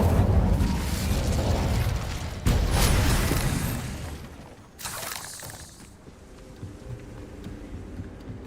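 An Incendio fire spell cast in Hogwarts Legacy, a loud fiery burst with crackling whoosh that fades, followed by a second bright blast and a rumbling, settling tail.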